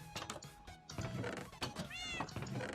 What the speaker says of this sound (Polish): przestań tam miałczeć proszę was